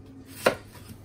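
A single knife chop cuts the end off an onion on a cutting board in a home kitchen while a turkey is being prepared, one close, sharp thud and then quiet.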